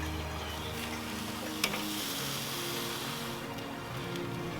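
Pork steaks searing directly over the fire on a Weber kettle grill, a steady close sizzle and crackle of fat hitting the coals with one sharp pop partway through.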